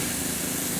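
Continuous close hiss of an airbrush spraying Badger Stynylrez primer, a steady, even rush of air with no pauses and no talk.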